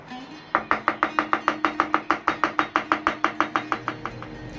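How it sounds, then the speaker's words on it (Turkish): Rapid, steady knife chopping of garlic on a board, about twenty even strikes in quick rhythm, close and clear with no talking. "Gene biraz da tarz yaparak sarımsağımızı doğrayalım."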